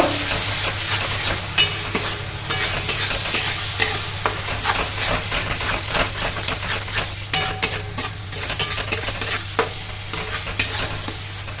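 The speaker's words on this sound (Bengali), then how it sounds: "এবার সুন্দর করে মশলাগুলো কষিয়ে নেব" Spices for a fish curry with cauliflower and potato sizzle steadily in a pan while being stirred, with repeated scraping strokes standing out over the continuous frying hiss, close and fairly loud.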